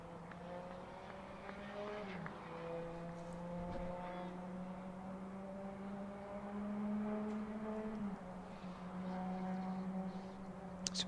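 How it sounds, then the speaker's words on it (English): Noisy cars passing near a cricket ground during a Durham v Lancashire match, a loud continuous engine drone with shifting pitch as vehicles go by, distant and steady for the whole stretch. "Some noisy cars around today, aren't they?"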